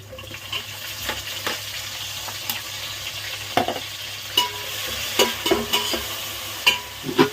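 Tomatoes added to a frying pan and stirred alongside eggs, a steady sizzle with repeated spoon scrapes and metallic taps against the pan, fairly close and clear.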